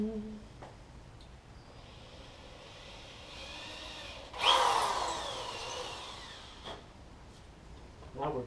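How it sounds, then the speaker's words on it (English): A power drill bores through a metal part during a Mercracing supercharger install on a coupe, a loud grinding burst near the middle that eases into a steadier whine, with other workshop noise before and after. "that'll give us a location to start drilling at"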